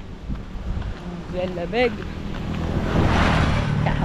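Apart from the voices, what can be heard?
strong wind blowing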